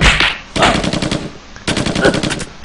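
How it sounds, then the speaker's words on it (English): Machine gun fire in the video game Mob Rule, loud rapid bursts of automatic shots in two long volleys separated by a short gap, close and dominant with no talk. "See the machine gun just slaughtering fixers."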